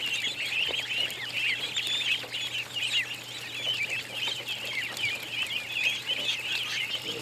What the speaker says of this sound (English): Busy bunch of ducks.